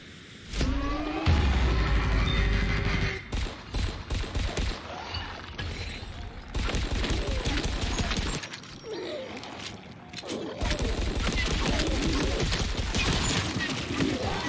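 Pistol gunfire in the video game Dying Light 2: dense bursts of sharp shots and impacts in rapid succession, loud and continuous over game noise, with brief pauses between volleys.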